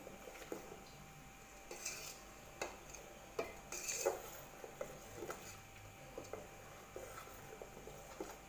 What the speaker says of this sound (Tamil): நல்லா கலந்து விட்டுறலாம்.